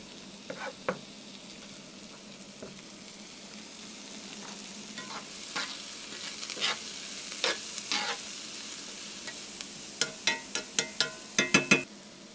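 Chopped onions sizzle softly in a pan while being stirred, a steady low frying hiss broken by scraping utensil strokes that grow quicker and louder toward the end; no one speaks.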